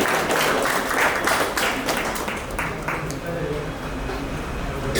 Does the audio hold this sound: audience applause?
yes